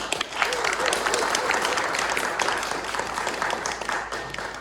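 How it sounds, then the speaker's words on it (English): Audience applause at a performance, a steady dense wash of many hands clapping that fills the room without a break and fades slightly toward the end. "Give yourselves a round of applause."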